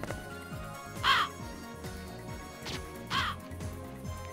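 Crows caw in the video game Ponyvania: two sharp, fairly loud caws about two seconds apart over layered game music and sound effects.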